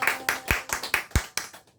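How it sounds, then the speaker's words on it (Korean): Congregation in a church claps together in praise to God, a steady burst of about eight sharp hand-clap beats at a brisk rhythm, fairly close, then quickly thinning out. "하나님께 영광의 박수 주"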